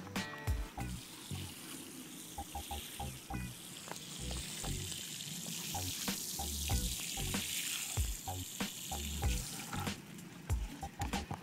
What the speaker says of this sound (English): So what I'll do is I'll water that in.